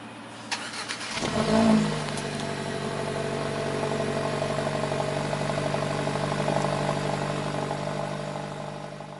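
A 2021 Hyundai Elantra N-Line with a 1.6-liter turbocharged GDI engine cranks briefly, catches with a loud flare of revs, then settles into a steady, even idle heard close up with no talking.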